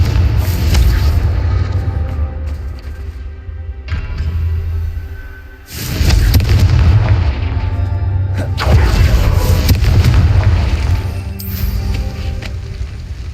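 Confringo blasting-curse explosions in the video game Hogwarts Legacy, heavy booming bursts with deep rumble and whooshing tails, several loud impacts in sequence over continuous background game audio.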